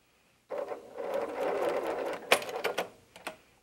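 A sewing machine stitches quilt pieces for a Crossroads block, starting abruptly into a steady whirring run of about two seconds, then a few sharp clicks and short bursts as it slows and stops.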